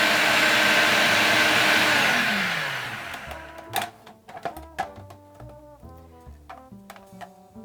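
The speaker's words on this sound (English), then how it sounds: "Now I'm going to pulse this until the egg yolks get a nice light color" A blender whirs loudly at a steady pitch while whipping egg yolks for beet brownies, then winds down and stops, leaving clatter and tapping sounds.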